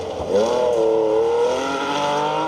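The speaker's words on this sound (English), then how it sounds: "Next up sounds very much like a Porsche." A Porsche 911 SC rally car races past on a forest stage of the Roger Albert Clark Rally, its engine note rising and sweeping by loudly in one close pass before trailing off.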